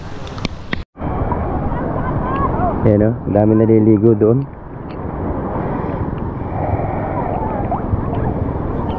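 A fishing boat's engine drones steadily at sea as the net is raised, under continuous wind noise, with people talking over it for much of the stretch.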